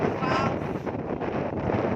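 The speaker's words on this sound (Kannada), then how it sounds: "ಅಷ್ಟು ಗಾಳಿ ಬೀಸ್ತಾ ಇದೆ" Strong gusty wind at Ayyanakere Lake, Chikmagalur, buffets the microphone with a loud, continuous roar and rumble, no other sounds standing out.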